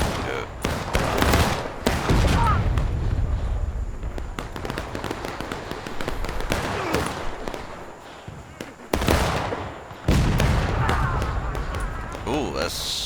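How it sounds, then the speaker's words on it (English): Booming cannon canister shots in the Civil War game War of Rights burst out several times, sharp and loud, followed by scattered crackling impacts and rumbling. "that's a decent canister"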